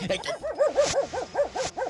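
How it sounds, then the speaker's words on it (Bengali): Several dogs bark and yelp at night in quick, overlapping bursts, fairly close, with a steady rhythm of sharp calls and some whimpering tones. "এই এত কুকুর ডাকে কেন এত রাতে?"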